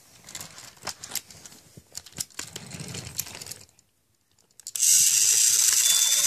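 A Trackmaster toy train engine motor clicks and ratchets in an irregular mechanical clatter, falls briefly silent, then starts a steady, loud, high-pitched whir.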